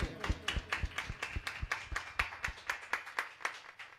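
Audience at a Telugu singing meet clapping in unison, a steady rhythmic beat of about three claps per second, loud and close, with no talk over it.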